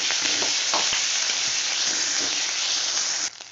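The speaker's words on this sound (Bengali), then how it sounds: "তেলটা আমার গরম হয়ে গেছে ওর মধ্যে একটা মিডিয়াম সাইজের পেঁয়াজকে থেতলে নিয়েছি দিয়ে দিলাম পেঁয়াজটা দিয়ে একটু নাড়বো" A medium-sized crushed onion sizzles loudly in hot oil, a bright continuous frying hiss broken by scraping stirs of a spoon, ending abruptly.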